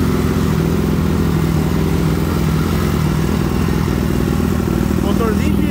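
A modified Honda Titan 150 motorcycle engine, bored out to nearly 250cc, runs loud and steady nearby while riding, with a rough mid-range drone and slight rises in pitch near the end.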